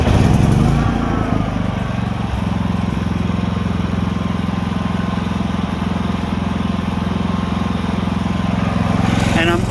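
A Predator 5000 generator runs at close range in a toy hauler setting, a loud, steady, low mechanical drone that holds evenly throughout.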